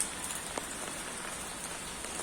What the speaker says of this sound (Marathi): पाऊस पडतोय रिमझिम रिमझिम